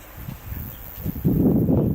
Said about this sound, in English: Oh yeah, this is windy.